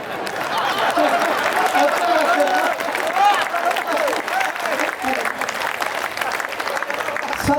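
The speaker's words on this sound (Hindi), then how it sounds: "अगर ताली बजाना चाहो तो जोर से बजाइए।" Audience at a Hindi poetry recital hosted by a Maheshwari community gathering applauds vigorously, a thick, rapid clatter of many hands lasting several seconds, with voices mixed faintly into the clapping.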